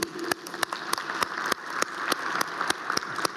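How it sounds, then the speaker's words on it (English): Audience applause at a heritage conference session, heard as a thin scattering of distinct, fairly close claps at an irregular pace, with no voices over them. "This applause go to you."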